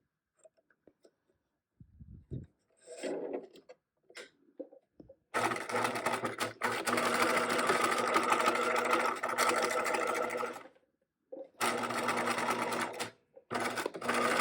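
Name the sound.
sewing machine stitching fabric maze walls, backstitching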